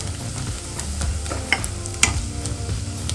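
Hyacinth beans stirred and fried in a pan with turmeric, a steady sizzle under scattered spoon scrapes and clinks, fairly loud and close, with no talking.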